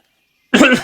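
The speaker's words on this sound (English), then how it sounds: "That was a big cough." A single loud, close cough bursts out abruptly after half a second of silence and cuts off sharply, with no other sound around it.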